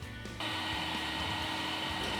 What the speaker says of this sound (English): I use the vacuum to suck up any water that might be left over in these lines